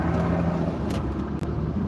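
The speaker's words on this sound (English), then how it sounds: "You feel the car going by." A car passes close by on a snowy winter road, a broad steady rumble of tyres and engine lasting the whole moment with a brief dip, no voices.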